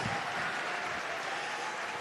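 An audience at the Rainbow PUSH Annual Conference applauding for Secretary Hillary Clinton, a dense, steady wash of clapping from a large crowd.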